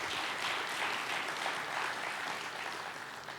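Steady, dense applause from a large conference audience at a blockchain event, a continuous wash of many hands clapping at moderate distance with no break.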